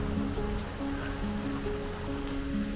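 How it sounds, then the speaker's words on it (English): A small river runs beside a roadside grill area in an Ecuador valley, giving a steady, moderately faint rush of flowing water with no break. "we have this little river running beside us"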